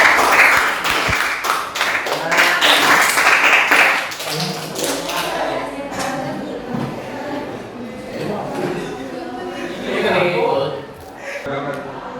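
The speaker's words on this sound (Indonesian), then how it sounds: "Boleh tepuk tangan untuk yang sudah maju ya." Classmates applaud students who have just presented in a school mathematics lesson, with a burst of clapping at the start that fades under ongoing voices and chatter.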